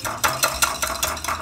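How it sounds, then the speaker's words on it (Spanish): A small whisk stirs butter and cream together in a bowl for a keto tiramisu, quick rhythmic scraping strokes about five times a second, close and clear with no talk. "Y lo van a revolver, lo van a mezclar muy bien"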